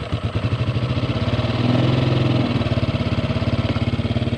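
A 1951 Ford 8N tractor engine runs close up after starting, with a rapid, even chugging pulse and a brief swell in revs midway before it settles back to a steady idle.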